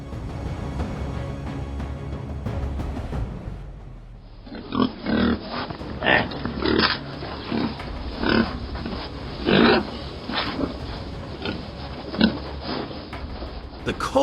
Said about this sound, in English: The culprit is wild boars.